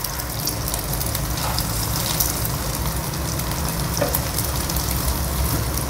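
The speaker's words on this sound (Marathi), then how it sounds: "आपल्याला असं हे सोनेरी रंगावरती फ्राय करून घ्यायचं." Potato, spinach and cheese patties shallow-fry golden in a pan, giving a steady, even sizzle that holds close and constant throughout with no talking.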